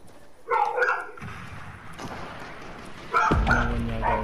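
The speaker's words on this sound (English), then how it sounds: "Sorry for my dog, if it's too much." A dog barks in a few sharp bursts, near and fairly loud, with yips and a low hum underneath during an online game session.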